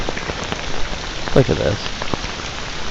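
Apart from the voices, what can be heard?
heavy rain falling on poncho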